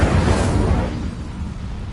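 A blast from the Incendio fire spell in Hogwarts Legacy erupts loud and close, a dense roaring burst that slowly decays into a sustained rumbling whoosh over about two seconds.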